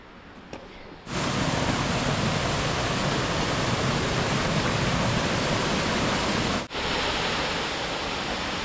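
Waterfall at Lover's Leap in Nuwara Eliya, Sri Lanka: a loud, steady roar of water pouring down that surges up after a quieter opening second, with one brief dip near the end, and no talking.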